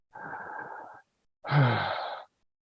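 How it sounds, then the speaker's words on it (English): Two deep breaths through the mouth during a guided breathwork meditation: a soft, airy exhale, then after a brief pause a fuller, louder breath with a slight voiced rasp, close and alone. "Starting to take full deep breaths in and out of the mouth, but keeping your body relaxed."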